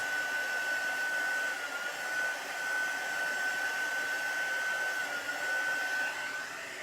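A hair dryer blows chalk paste dry on a tea towel, giving a steady, close, continuous whir with a thin whine running through it and no voices.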